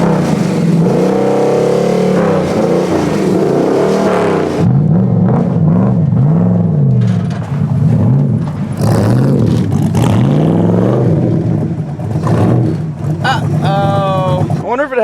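An Infiniti G35, one of a pair of cheap $3,500 cars at a drag week event, drives and accelerates loudly, its engine note rising and falling through repeated revs with people talking over it.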